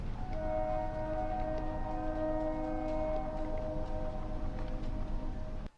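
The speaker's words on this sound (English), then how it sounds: "I know this because I hear a train throughout the video." A late-night train rumbles past at 3 a.m., a steady continuous drone with sustained horn-like tones held throughout, loud and unbroken until it cuts off abruptly at the end.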